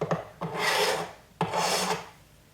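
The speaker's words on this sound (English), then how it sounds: "I'll just finish it up by filing it" A hand file rasps across a copper matchbox sleeve in two long strokes, each opening with a sharp scrape and holding a steady close gritty hiss, a brief pause between them.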